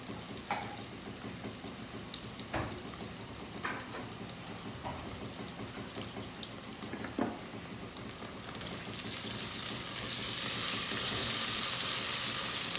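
Ginger garlic paste fries in a pan with a continuous crackling sizzle and scattered clicks from the spoon. The frying swells to a louder, denser hiss near the end, with no voices.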